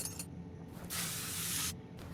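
Car parts being sprayed in Car Mechanic Simulator 2021: short hissing bursts, then a steady, louder spray lasting nearly a second, over a low background hum.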